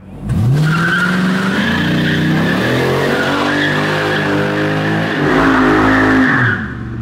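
A 1954 DeSoto Powermaster wagon with a V8 engine revs hard while doing donuts, a loud, sustained roar rising and falling in pitch as the tires squeal across the surface, close and continuous.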